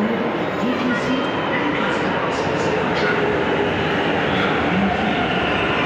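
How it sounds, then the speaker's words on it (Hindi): A Delhi metro train rumbles loudly and continuously as it pulls in, with a steady mechanical roar and faint voices mixed in. "आ चुकी है मेट्रो, इसके अंदर बैठना है अब"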